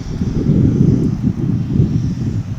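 A Qantas Boeing 787 airliner in 100-year livery at DFW airport gives off a loud, steady low engine roar with slight pulsing, continuous across the whole short stretch.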